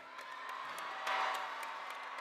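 Large University of Maryland graduation crowd cheering and applauding at a 2025 commencement, a steady wash of distant clapping and whoops with a brief louder swell in the middle.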